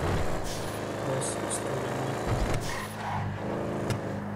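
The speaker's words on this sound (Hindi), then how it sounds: "क्या साउंड है गाड़ी को, खतरनाक वाला साउंड।" Engine of an old modified car driven fast in the video game GTA 5, a loud continuous roar and drone throughout, with brief gear-change dips and hiss-like bursts over a steady rumble.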